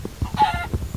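A Minecraft chicken gives a quick clucking call in the game, a short, close, tonal squawk amid light rhythmic background sounds.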